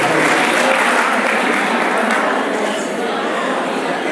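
Loud, continuous applause from a school audience at an Independence Day prize-giving, honoring award recipients, with murmured chatter running beneath the clapping.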